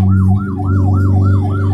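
An ambulance siren heading to a fire emergency wails loudly and close in a fast, regular up-and-down sweep, about six cycles, over a steady low engine drone.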